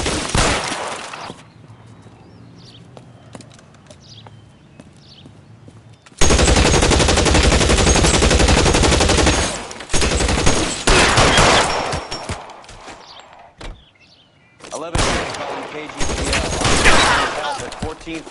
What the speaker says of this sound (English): Shots fired and officers need help